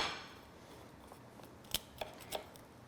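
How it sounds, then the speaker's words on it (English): A pizza cutter rolls through a crispy, browned low-carb tortilla pizza, making a few faint, sharp crackling crunches in a quiet room, with short gaps between each cut. "So I'm gonna cut it with a pizza cutter."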